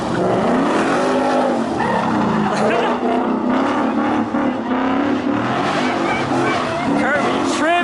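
A Chevrolet Camaro ZL1 slides on a wet road in the rain, its loud engine revving and tires squealing in long wavering bursts, with people talking and shouting over the noise.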